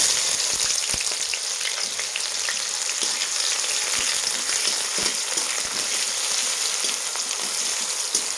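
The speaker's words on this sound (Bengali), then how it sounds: "পেঁয়াজটা তাড়াতাড়ি ভাজা হয়ে যাবে" Chopped onions frying in a pan with spices, a steady loud sizzle and crackle with occasional stirring clicks throughout and no voices.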